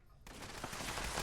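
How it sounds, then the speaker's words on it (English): Rapid automatic gunfire from defensive turrets firing on robots in the video game Fallout 76, a dense continuous barrage that starts abruptly and stays loud and busy throughout. "the turrets start shooting each other. They start shooting all the robots."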